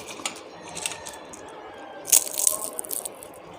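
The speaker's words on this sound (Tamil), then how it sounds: "அதை நொறுக்கும்போது அந்த கிறிஸ்பினஸ் வந்து உங்களுக்கு அந்த சவுண்டு கேட்குதுன்னு நான் நினைக்கிறேன்" Crisp homemade potato chips crunch with a few sharp bursts, loudest near the middle, over a faint steady background hiss.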